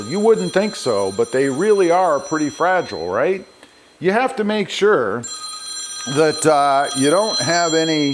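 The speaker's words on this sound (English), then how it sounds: "Sorry about the phone call there." A telephone ringing in a car dealership, with a steady, high electronic ring running continuously beneath a man's nearby speech and pausing briefly partway through.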